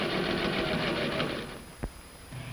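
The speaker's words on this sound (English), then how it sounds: "And then top stitches the facing to the seam." A sewing machine runs continuously as it top stitches a facing to a seam, with a steady, fairly loud mechanical hum and a single brief knock near the end.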